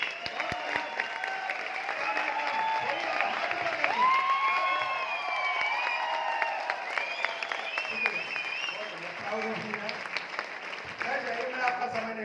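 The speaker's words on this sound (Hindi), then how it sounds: "तालियां कुलदीप के लिए यार" A gathering applauds for Kuldeep, with sustained clapping and crowd noise and some voices mixed throughout.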